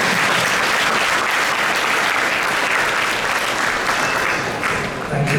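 A hall audience at ISKCON Toronto claps steadily after a spiritual talk, dense sustained applause that stays loud for several seconds before tapering slightly at the end.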